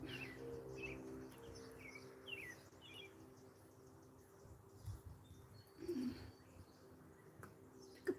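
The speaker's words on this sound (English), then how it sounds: "Hear the morning doves." Mourning doves coo softly outdoors in low, repeated hooting phrases, with faint chirps from other birds and light background noise.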